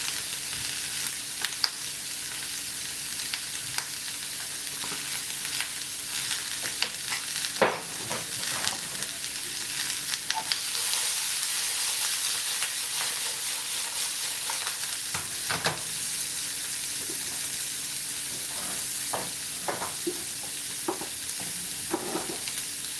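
Cumin seeds sizzle steadily in hot oil in a pan, a continuous close frying hiss with occasional stirring scrapes and no voices.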